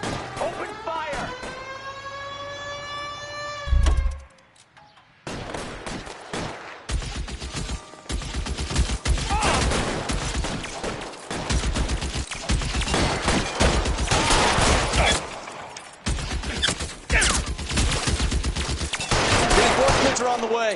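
Rapid bursts of gunfire from a PS4 police shooter, loud and sustained with brief pauses, over game music and some talking.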